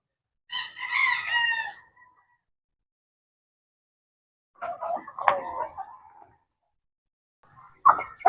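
Chickens on a farm call in short bursts, a crowing rooster and clucking hens heard close in three separated outbursts with silence between.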